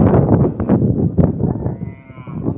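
Cattle lowing at a busy livestock market in Simulia, with repeated deep moos close by over a dense crowd murmur and people chatting throughout.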